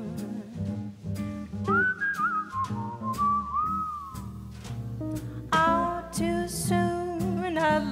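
A melodic whistled tune wanders up and down over a busy musical backing, with instruments swelling louder toward the end.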